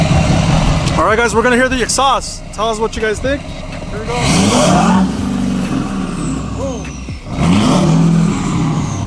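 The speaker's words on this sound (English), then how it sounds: "All right, guys, we're gonna hear the exhaust." A lifted 2016 Duramax Denali diesel truck with oversized exhaust tips revs in repeated sharp bursts, then settles into deep, rumbling swells of exhaust noise, loud and close, with someone speaking briefly near the start.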